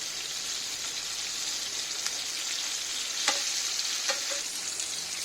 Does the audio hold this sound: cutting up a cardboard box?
no